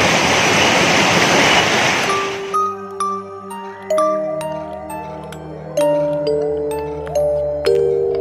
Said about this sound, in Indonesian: ditambah dengan deburan curugnya yang menenangkan jiwa